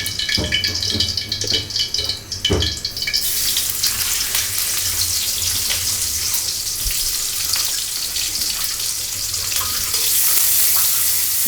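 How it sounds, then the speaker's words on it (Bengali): Lots of onions sizzle loudly in hot oil for a tilapia fish curry with potato and eggplant, a steady bright hiss taking over after a few seconds of clattering kitchen sounds and lasting to the end. "বেশি করে পেঁয়াজ দিয়ে দিলাম বেশি করে পেঁয়াজ"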